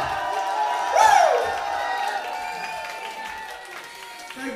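Live concert audience applauding and cheering at a show, a moderate swell of clapping and whoops under an amplified announcer's voice.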